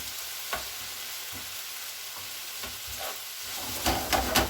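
Meat sizzles steadily in a frying pan, a constant close crackle with occasional stirring scrapes and a few louder pops near the end, no voices.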